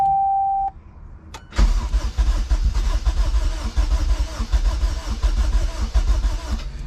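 A junkyard-rebuilt K24A2 engine swapped into a Honda CRX cranks briefly after a steady electronic tone, then catches and runs with a loud, rough, rumbling idle that continues to the end, close by, with no voices.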